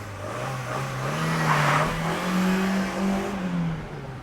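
A used car's engine revs up and holds, a close, loud droning tone that climbs and wavers in pitch for several seconds, with no talking.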